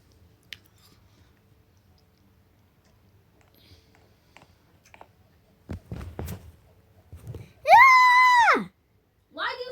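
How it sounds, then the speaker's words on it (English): A person lets out one loud, high-pitched scream lasting about a second, after a stretch of faint clicks, knocks and rustling, with a brief noise following. "Why are you screaming?"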